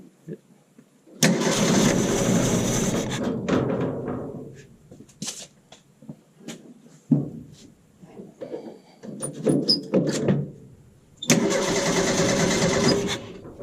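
A 1929 Ford Model A Roadster Pickup, fed from its old gas tank and with a leaking fuel pump, cranks and catches in two loud bursts of engine noise, with someone talking in the quieter stretch between them.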